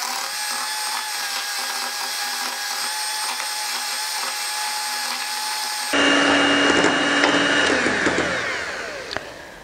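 An electric hand mixer whirs continuously through cheesecake batter for a brownie cheesecake, a steady close motor drone that turns harsher and louder partway through as the beaters churn.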